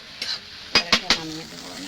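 A spoon stirs ridge gourd korma with roasted spice powder in a pan, making a few sharp scraping clicks over a soft sizzle.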